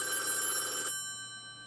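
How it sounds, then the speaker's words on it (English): A telephone bell rings once, a bright metallic trill lasting under a second, then fades out into a lingering tone and quiet. "I'm going to have to wait for that to stop ringing because I can't answer it."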